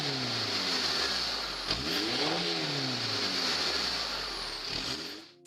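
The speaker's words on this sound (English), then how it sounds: "If the DPF is removed and you floor the acceleration in neutral" Diesel car with its DPF removed, revved hard in neutral; the engine surges and drops in repeated sweeping rises, loud and close, with no talk.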